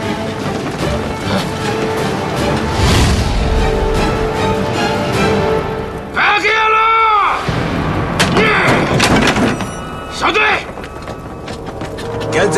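A war-film explosion at a Japanese army base, set off as cover for an escape, lands as heavy thuds and a crashing boom with rumbling debris over dense cinematic sound, followed by a shorter second impact.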